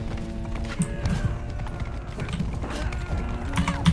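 A horse gallops in the Mount & Blade 2 video game, rhythmic hoofbeats thudding steadily amid battle clatter and mechanical noise, moderately loud with no talk.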